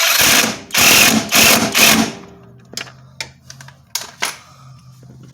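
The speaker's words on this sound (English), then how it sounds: "I just got the bolt in there, so I'm tightening it down right now." A bolt is tightened on the shifter linkage of a 2004 Grand Am during a 3800 supercharged and 5-speed swap: a few loud, rapid ratcheting bursts close up, then sparse metallic clicks and taps.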